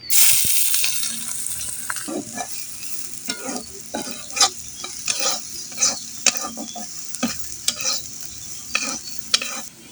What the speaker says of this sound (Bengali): আগে পেঁয়াজটা আমি ভাজা নিব।